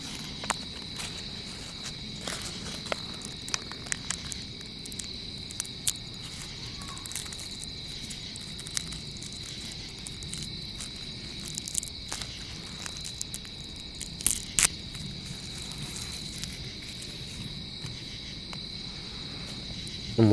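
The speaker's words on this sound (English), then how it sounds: "see what kind of crickets and different nature sounds we can pick up tonight." Crickets chirp steadily outdoors at night, a dense high-pitched trill running throughout at moderate level, with occasional faint rustles and footstep-like taps nearby.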